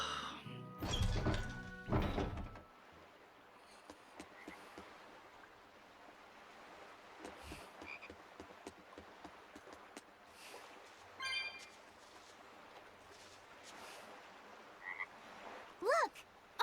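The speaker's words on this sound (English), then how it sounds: "Look! A frog!" A frog croaks near the sea at Port Renede in Tales of Berseria: a loud burst of croaks at the start, then quiet ambient game sound with sparse clicks and a few faint chirps later.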